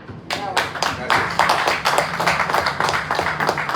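An audience at a lecture on Octavio Paz breaks into a dense, steady round of clapping that starts abruptly and carries on evenly, filling the hall for a few seconds.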